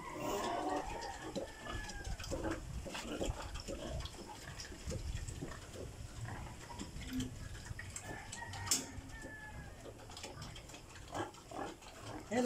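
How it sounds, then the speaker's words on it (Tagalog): Pigs grunting and snuffling on a rural farm in the province, a steady close chorus of overlapping grunts with occasional squeals and background clatter throughout. "Dito naman tayo sa kabilang baboy."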